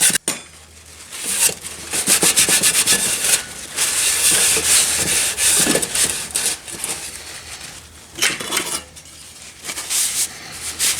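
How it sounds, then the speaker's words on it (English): Hand sanding a wooden scale body with an abrasive pad that contours to the shape: close, dry scrubbing strokes in repeated bursts with brief pauses, no voices. "it's not sandpaper, but I sort of like it because it contours to the shape that I'm working"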